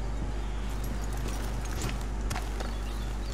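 Horses' hooves clip-clop at a walk in the Western game Red Dead Redemption 2, steady soft hoofbeats over a constant low ambient hum and game background sound.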